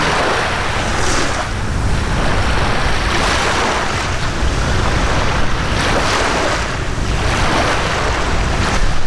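Sea waves washing onto a beach in Thailand, a loud continuous rush of surf with swelling breakers every couple of seconds, mixed with strong wind buffeting the microphone and no voices.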